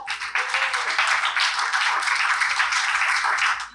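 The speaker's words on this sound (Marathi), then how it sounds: "एकदा जोरदार टाळ्या होऊन जाऊ द्या" An audience claps together at the teaser launch of the Marathi film Aatali Batmi Phutali, a dense and steady round of applause lasting a few seconds before it tapers off at the end.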